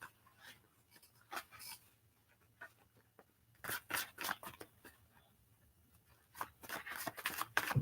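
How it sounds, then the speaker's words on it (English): Soft, irregular bursts of papery riffling and flicking, like cards being shuffled, coming in short clusters with quiet gaps between. "Okay, so I'm just shuffling."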